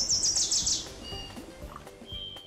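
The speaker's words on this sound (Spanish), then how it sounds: "¡Se escuchan los silbidos más fuertes! ¡Sí! ¡Son aves! ¡Ellos son los que cantan!" Birds sing and chirp in quick bright bursts, a loud run of tweets up front, then sparser calls fading into quieter surroundings.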